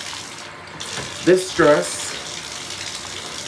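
Clothing rinsed by hand in a sink of water, with two short splashing swishes just over a second apart above a steady running-water background, while a voice speaks briefly.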